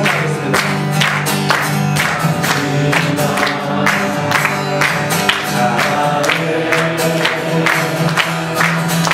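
A church congregation at a revival meeting claps along in a steady beat while singing praise with instruments, loud and continuous.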